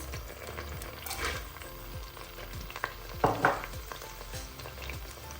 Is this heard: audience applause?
no